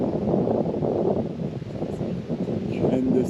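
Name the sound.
wind blowing outdoors at a trail shelter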